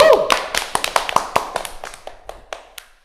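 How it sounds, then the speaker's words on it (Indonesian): A studio audience at an Indonesian comedy talk show claps in scattered, separate bursts that thin out and fade over a few seconds, with a voice briefly heard at the start. "Kita kasih tepuk tangan dulu untuk Bang Arif Brata."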